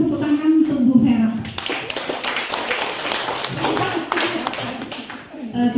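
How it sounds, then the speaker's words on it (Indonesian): At a teachers' training session on education modules, a voice speaks briefly, then the audience claps for a presenter in a steady, moderately loud round that continues to the end, with speech faintly mixed in. "Kita berikan tepuk tangan untuk Bu Vera."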